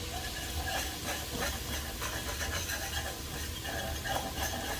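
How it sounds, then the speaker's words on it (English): Flour is whisked into a roux in a pan, making a steady hiss and sizzle with faint scraping and clinking strokes of the whisk, close and moderately quiet, with no talk. "we just want to whisk this around, get rid of that flour taste"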